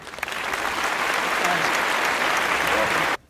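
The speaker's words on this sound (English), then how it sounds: "let's hear it for Frederick II" Steady audience applause for Frederick II at a staged Holy Roman Empire interview show, a dense wash of clapping from a room full of people, loud and sustained for about three seconds before it cuts off abruptly.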